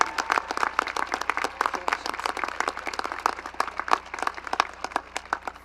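Graduation audience applauds the valedictorian, a dense, sustained clapping from a large crowd that continues steadily throughout at moderate loudness.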